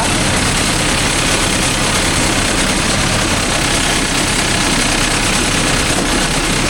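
Mahindra Arjun Novo 605 DI tractor engine running steadily at around 1000 RPM, a loud, continuous low diesel rumble and idle-like drone with no breaks, out in farmland.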